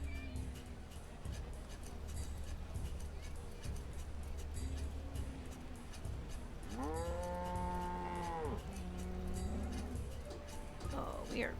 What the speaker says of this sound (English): Oh, this cow is just stuck on the fence.